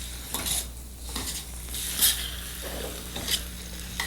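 Fried paneer sautéed in flavoured ghee with sugar in a pan, a steady close sizzle under repeated spoon scrapes and light metal clinks, no talk.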